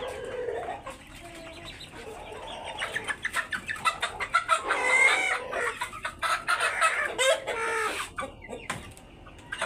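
Hill chickens cluck and crow close by, with a busy run of overlapping calls building through the middle and a rooster's crow among them, no talking.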